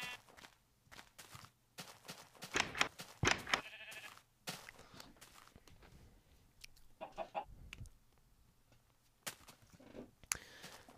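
Sheep bleat in Minecraft amid the game's clucking chickens and blocky footsteps, the sounds brief and scattered, fairly quiet and close, with no voice over them.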